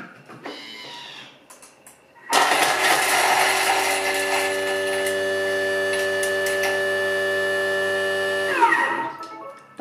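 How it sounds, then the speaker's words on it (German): Thermomix food processor chopping five garlic cloves and a chili pepper at speed 8, a sharp clatter starting into a loud steady high-pitched whirring motor for about six seconds before winding down. "die 5 Knoblauchzehen und die Chilischote in den Mixtopf und zerkleinern das Ganze 6 Sekunden auf der Stufe"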